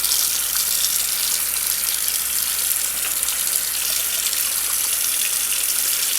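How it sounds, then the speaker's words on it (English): Tap water runs steadily through a sieve, rinsing tomato seeds in a sink, a close, continuous hissing splash with no pauses. "I've rinsed all the stuff off of them"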